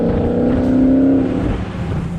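A 707-horsepower Dodge muscle car with an 8-speed automatic pulling hard on launch control, its engine roaring loud and steady up close with a rising tone that drops off toward the end.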